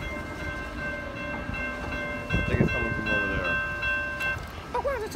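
A Lynx light rail train approaches Park Rd station with a rising rumble and sustained high tonal squeal or whine, moderately loud amid ambient station noise.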